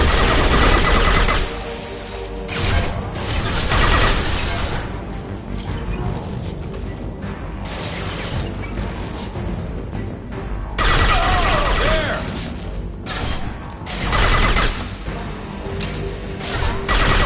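Gunfire in a Mass Effect battle, loud rapid volleys and crashing impacts coming in waves over a busy combat soundscape, rising and falling in intensity with some talk mixed in.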